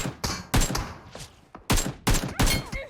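UZI gunfire in a shooter video game, landing headshots: five or six sharp, loud rapid bursts in quick succession with short gaps between them, close and punchy.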